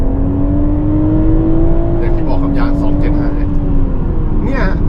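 A BMW Z4 M40i sports car, upgraded to 387 horsepower, pulls away from a standstill with a loud, steady engine drone that rises slightly, dips briefly as if shifting, then carries on, with voices talking over it.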